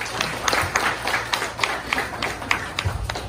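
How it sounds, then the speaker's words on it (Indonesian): A crowd of Indonesians at a 76th Independence Day celebration in Jeddah claps together in a quick, even rhythm. The beats are moderately loud and continuous, with no talking over them. "Tepuk tangan untuk kita semua."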